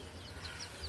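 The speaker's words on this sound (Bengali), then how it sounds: "লিচু, এই মুরগি বৃষ্টির দিনে কি করো?" A chicken clucking softly outdoors on a rainy day, faint low clucks over a light patter of rain.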